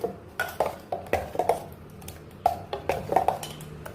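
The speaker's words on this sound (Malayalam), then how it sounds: "ഇതിങ്ങനെ ഇളക്കി വയ്ക്കാം" A spoon knocks and clinks against a vessel while papaya shake made with sweet papaya is stirred, giving irregular bursts of close, light metallic taps with brief pauses between.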